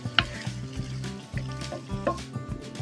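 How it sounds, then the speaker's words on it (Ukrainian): Vegetables sizzle and fry in a cauldron over an open fire for Transcarpathian bograch while a utensil stirs and scrapes through them in repeated strokes, with soft clinks against the metal. "Оце все гарнесенько так перекалапуцяємо і хай смажиться далі."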